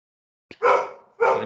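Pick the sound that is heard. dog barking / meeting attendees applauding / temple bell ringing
dog barking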